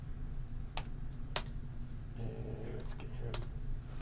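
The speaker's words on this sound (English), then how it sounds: "I could hit T, get mouse cursor, and start typing in here." Typing on a computer keyboard into in-game chat in an Unreal Engine multiplayer project: a few sharp, separated key clicks and taps, fairly close, with someone briefly talking between them.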